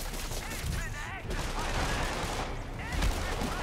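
Enemy gunfire in Spider-Man on PS4, a dense, continuous burst of game shots and crackling fire running the full length at steady loudness, mixed with other combat effects.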